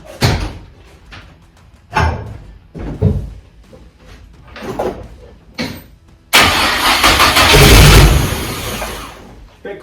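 A car with a newly fitted NX nitrous kit and mechanical fuel pump cranks and fires up, the engine catching into a loud, steady rumbling idle after several short knocks and clunks, with people talking beforehand.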